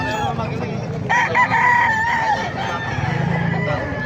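Gamefowl at a Bocaue market, with a rooster crowing loudly nearby in one long drawn-out call amid clucking from other birds and faint background chatter.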